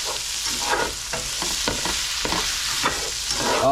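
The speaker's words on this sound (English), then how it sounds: "Then you kind of just give it a quick stir a little bit." Food is stirred in a non-stick pan, a continuous sizzle of frying with repeated scraping strokes of a utensil at close range and no talking.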